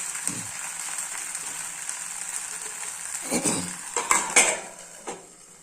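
Oil sizzles softly and steadily in a pan while bottle gourd adai fries, with a few sharp clinks of a metal utensil against the pan toward the end.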